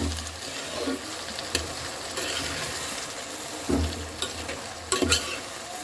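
Vegetables tossed with salt, turmeric and cumin powder being stirred and fried in a pan for a small-fish charchari, a steady sizzle with scraping spoon strokes and a few louder clanks near the end.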